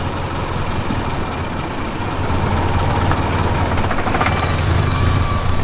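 A manual-transmission car's engine revs under a learner's throttle, a steady loud drone with a rumbling low end that swells louder through the second half.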